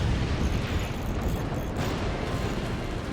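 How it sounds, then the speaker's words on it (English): Incendiary rockets slamming into a burning fort base in the game Forts, a loud, dense, continuous roar of overlapping impacts and blasts with no pauses. "And here come the rockets,"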